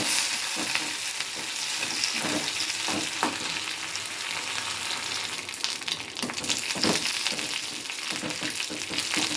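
Curry leaves crackle and sizzle in hot oil for pulihora, a continuous close frying hiss punctuated by sharp pops and stirring scrapes, loud and without talk.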